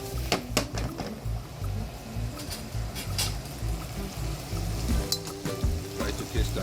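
Pasta sauce made with firefly squid simmers and reduces in a pan, giving a soft, steady bubbling sizzle close by with scattered small pops and clicks.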